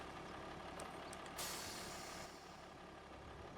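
Tractor pulling out in Farming Simulator 25, a steady engine rumble with a short air-brake hiss midway, heard alone at moderate level.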